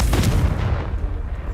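A Confringo fire spell in Hogwarts Legacy bursts in a single loud, booming explosion up close, its deep rumble fading over about a second.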